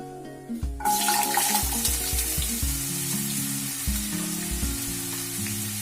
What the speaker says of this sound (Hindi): तेल गर्म हो चुका है, अब हम इसमें आलू डाल देंगे।